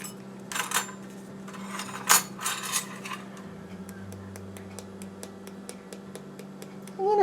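A tablespoon of chili powder goes into a container while mixing fajita and taco seasoning: a few light scraping, clinking taps close by over a steady hum, then a run of faint, evenly spaced ticks.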